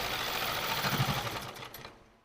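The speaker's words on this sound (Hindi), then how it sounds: "तो हम स्टार्ट करते हैं, लास्टिक के ऊपर ही सिलाई आनी है" A sewing machine stitches over elastic on a palazzo, a rapid mechanical whir and clatter that runs steadily, then slows and fades as the stitching stops.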